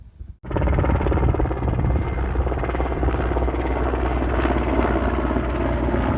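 A military patrol helicopter flies over the Saka burial mounds near Almaty, Kazakhstan, its loud, steady rotor thrum starting abruptly and holding close and constant without talk.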